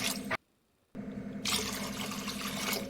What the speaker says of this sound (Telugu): చూసారా నేను ఇక్కడ ఐదు గ్లాసులు వాటర్ అయితే వేసుకున్నాను